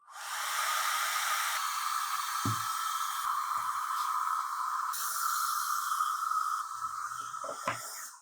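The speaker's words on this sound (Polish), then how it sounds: "zawsze możecie zmienić na program manual, jeżeli chcecie samemu dostosować funkcję suszarki" A hair dryer running on its Style program while drying hair gives a steady, loud, close airflow whoosh with a high whine, shifting slightly in tone, plus a few faint handling bumps.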